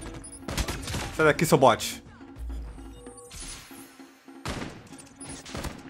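Call of Duty Mobile gunfire with an AK117 rifle comes in rapid bursts of sharp shots, mixed with game effects, while someone speaks briefly during the action.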